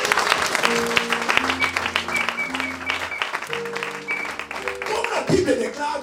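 A church congregation at a sermon claps and applauds steadily throughout, a dense crowd sound with a musical accompaniment and voices beneath.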